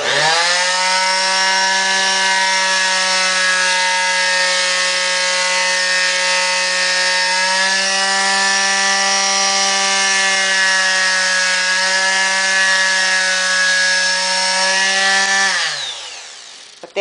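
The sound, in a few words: power sanding a wooden ornament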